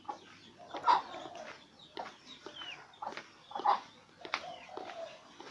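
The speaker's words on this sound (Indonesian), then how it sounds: "Suara ayam, burung, melodi alami suasana pedesaan." Chickens cluck and crow with other birds calling on a quiet rural village morning, scattered near and far calls over a low background.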